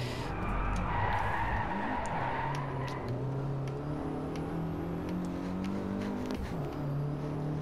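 Mercedes-Benz CLA 45 AMG engine dropping in pitch as the car brakes into a sharp corner, then climbing again in a steady close whine, with a brief tyre squeal near the start and no voices.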